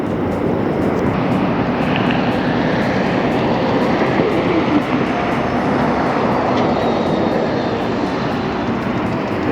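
A Southwest jet airliner passes overhead near Las Vegas airport, its broad, steady engine roar loud and sustained throughout with no talking.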